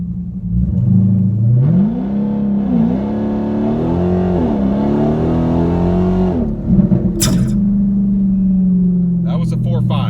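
A 2019 Dodge Hellcat in 700 horsepower mode launches 0-60 on a street, engine roaring loud and close as it climbs through rising revs with quick gear shifts, then settles into a steady drone.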